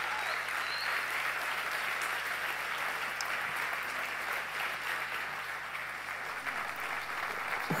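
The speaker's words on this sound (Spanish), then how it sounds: "bien fuerte el aplauso" A studio audience on a television talk show gives a strong, sustained round of applause, a thick continuous roar of many hands clapping at a steady level for several seconds.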